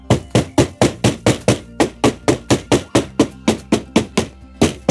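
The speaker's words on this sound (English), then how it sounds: "Then I'm gonna grab my hammer." A hammer drives roofing nails into shingles in a steady series of about sixteen sharp, loud, evenly spaced blows at close range, with no talking.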